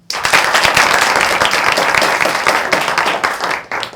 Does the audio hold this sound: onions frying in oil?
no